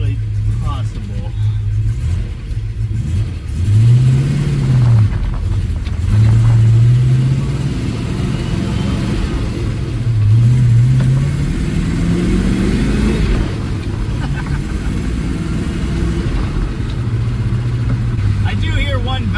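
A supercharged 1961 Studebaker Hawk engine revs up and down, with repeated swells of throttle over a steady loud mechanical drone and rough low rumble.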